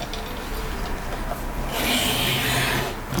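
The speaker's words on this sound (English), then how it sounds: "And we'll get this card cut out quickly here." Paper greeting card being trimmed by a paper cutter, a steady scraping rub close by that swells louder in the second half, with no voices.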